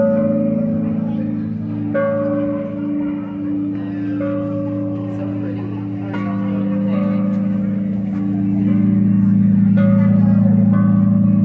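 Bells in a bell tower at a Texas Renaissance festival ring with sustained, reverberant tones that strike repeatedly and overlap, heard amid crowd noise and brief talk.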